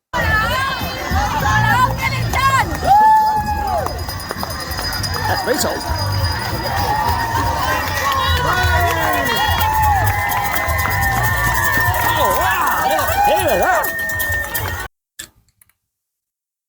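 Spectators line the course of the Great North Run half marathon, cheering and shouting encouragement as runners pass, with a rhythmic ticking beat, close voices and someone briefly talking, before the sound cuts off abruptly near the end.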